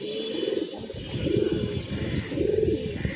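Young pigeons cooing close by in three rolling, throaty coo phrases with short pauses between them; no clear wing flapping stands out.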